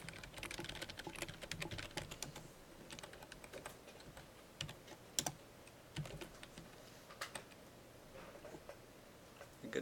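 Students in a classroom type steadily on computer keyboards, a dense patter of close key clicks with scattered sharper taps throughout, no voices.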